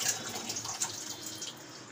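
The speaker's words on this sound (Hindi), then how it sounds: "आपको इतना ही पानी ऐड करना है" Water poured into a pot of soaking rice for veg pulao, a steady splashing trickle for a couple of seconds with no talking.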